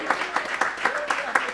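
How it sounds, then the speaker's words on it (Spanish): A church congregation claps in a steady rhythmic beat, crisp regular bursts several times a second, fairly loud and close, with no words spoken over it. "Demos un aplauso fuerte a la gloria del Señor."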